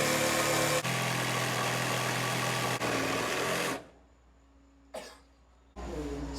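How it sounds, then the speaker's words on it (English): A jigsaw cuts through an acacia butcher block, buzzing loud and close for nearly four seconds with two brief dips, then stopping. It restarts briefly twice, and quiet pauses fall between the bursts. "so I'm going to have to cut it out with a jigsaw."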